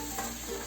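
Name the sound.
potato and pointed gourd stir-frying on high flame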